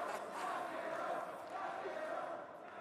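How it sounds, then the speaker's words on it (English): A tournament crowd at a Street Fighter 6 event chants a player's name, a dense roar of many voices in steady rhythm filling the hall, loud and unbroken for a few seconds. "You just heard the crowd right there chanting his name."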